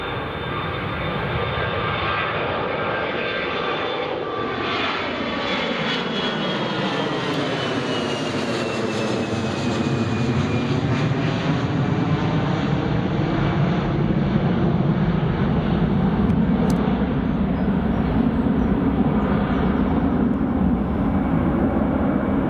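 A jet airliner taking off at Newcastle Airport, a loud continuous engine roar with rising and falling pitch as it climbs past and away, heard alone without talk.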